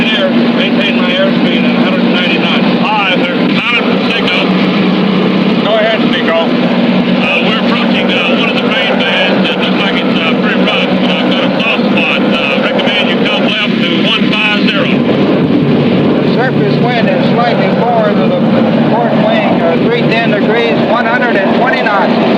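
An aircraft's engines drone loud and constant at 2600 RPM as it flies through a hurricane toward the eye, with the roar of buffeting wind blended in and crew voices speaking over the noise.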